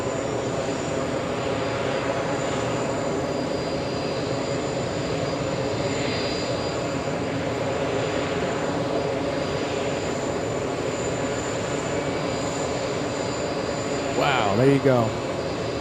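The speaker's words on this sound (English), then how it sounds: "Yeah, that was a cool go-around." Delta flight 76 airliner doing a go-around over runway 22 left at JFK airport: a sustained jet engine roar with slow swells, steady at a distance, and a person exclaiming near the end.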